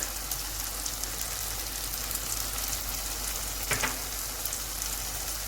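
Spices for bhindi masala, including carom seeds, black pepper, dried coriander, red chili, turmeric, ginger, fenugreek and salt, fry in a pan with a steady, close hiss of sizzling that runs unbroken throughout.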